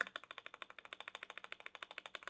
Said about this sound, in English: Space bar on the Azoth.